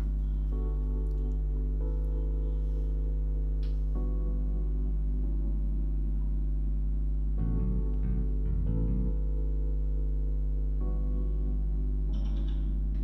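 Construction work next door where apartments are being built, heard as a steady droning machinery hum with pulsing, rattling bursts midway, continuous throughout and fairly loud, with no voices.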